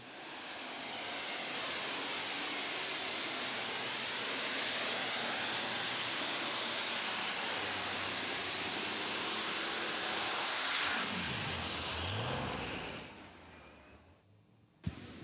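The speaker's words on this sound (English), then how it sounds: "As you heard it when the tractor spun out, really spiked the RPMs of the motor." Roaring pulling tractor engine at an NTPA truck and tractor pull in Rockwell, Iowa, a loud sustained wall of noise running for about eleven seconds, then a falling rev sweep as the run ends, dropping to near quiet at the finish.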